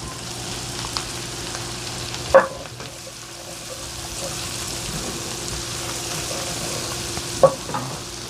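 Half a red onion and garlic cloves sizzling in a frying pan, a steady close hiss with two brief sharp knocks of a utensil against the pan, no talk.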